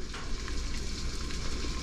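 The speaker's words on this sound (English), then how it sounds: "All I'm going to do is throw that in while I'm stirring." Dry grain poured and stirred into a large pot of boiling water for meal prep, giving a steady bubbling, sizzling wash with faint stirring scrapes, close and continuous without any talk.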